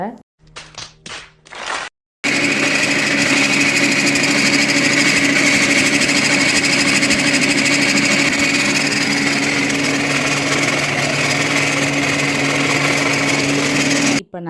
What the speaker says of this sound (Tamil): நம்ம எப்பயும் அரைக்கிற அதே ரைஸ் மில்ல கொண்டு போய் அரைக்க போயாச்சு